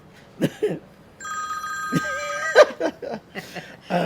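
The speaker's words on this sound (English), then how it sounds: "Oh, excuse me, that's my phone." A mobile phone rings with a steady electronic tone during a live interview, sounding over a man's nearby speech and brief chuckles.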